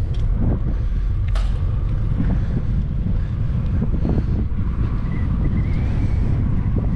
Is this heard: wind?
yes